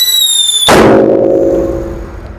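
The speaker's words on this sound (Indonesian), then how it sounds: "Kita lanjutkan mercon yang suaranya menggelegar, ada Happy Power 3. Kali ini kita nyalakan di ruangan yang tertutup." A Happy Power 3 firecracker goes off indoors in a closed room: a fuse hiss, then one loud, sharp blast at about 0.7 seconds, followed by a long echoing rumble and ringing that slowly fades.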